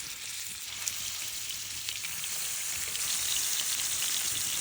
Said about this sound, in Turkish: Tavamıza yağ döküp köftelerimizi güzelce diziyoruz.